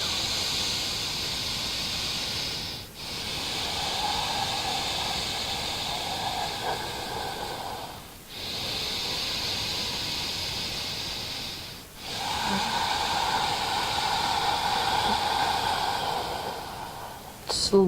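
Slow, deep breaths taken during a yoga flow, each long airy inhale or exhale running several seconds, with short pauses between them, close and steady.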